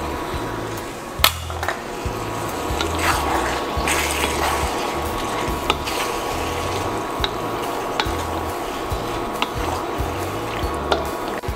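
Water is poured into a pot of Filipino-style chicken curry, a soft running and splashing sound with intermittent clinks and stirring, fairly close.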